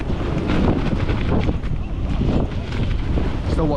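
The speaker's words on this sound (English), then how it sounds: "getting a pounding though of this wind" Strong wind buffets a tent on Kinder Scout, a steady roaring rush with flapping fabric pressed close against the microphone, loud and unbroken throughout.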